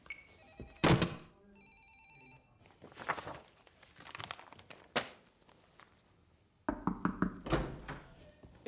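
A telephone rings in a quiet room in an Italian art thriller, a few separated rings with knocks and footsteps in between.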